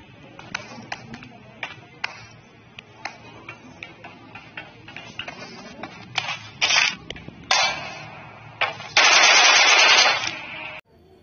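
DP light machine gun firing in a video game: sharp, quick shots and short bursts crack over quiet game ambience, ending in a sustained loud stretch of noise.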